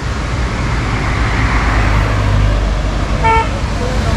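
Vehicles speeding past in both directions on a road in Munnar near a waterfall, a continuous loud traffic roar with a short car-horn toot near the end.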